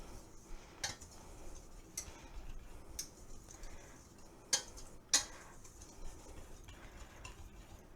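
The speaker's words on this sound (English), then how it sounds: "We're just gonna whisk here. Just gonna whisk that together." Ingredients for buttery honey beer bread are whisked in a bowl, giving faint soft stirring and scattered light clinks of the whisk against the bowl, quiet and close with no talk.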